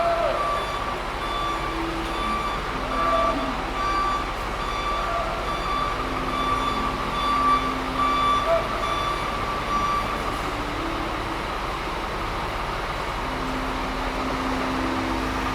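A Rosalia Indah bus sounding steady, evenly spaced reversing beeps at a bus depot, with a constant engine hum and background noise throughout.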